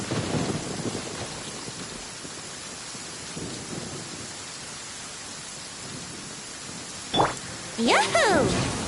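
Steady rain and rumbling thunder from a Genshin Impact storm, with a sharp crackling lightning strike near the end and a character voice speaking.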